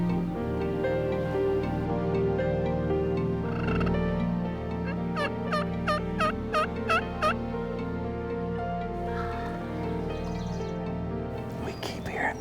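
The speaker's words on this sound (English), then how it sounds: "We keep hearing birds to our left and our right" Wild turkeys gobble during a Washington County turkey hunt, one quick burst of about seven rattling gobbles mid-clip, moderately distant over steady outdoor ambience, with people talking quietly nearby.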